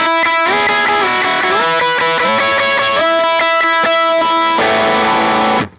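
Distorted electric guitar played through an MXR Duke of Tone drive pedal, a loud melodic lead with sustained bent notes and crisp high tones, ending in a strummed chord that cuts off sharply.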